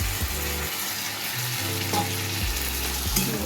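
Onion, tomato, green chili and ginger-garlic paste fry in a pan as a constant close sizzle. Low stirring knocks and scrapes come and go underneath, and no one talks.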